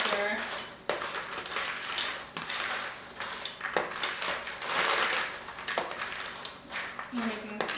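Fall snack mix is tossed and stirred in a bowl, producing repeated rattling, clinking and rustling bursts in an irregular rhythm, with a voice talking intermittently over the mixing.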